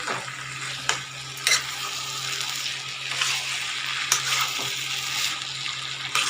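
A spoon stirs a vegetable curry with fresh coriander leaves in a pan, giving a continuous soft sizzle with several scraping knocks spread across the stretch, close and without speech.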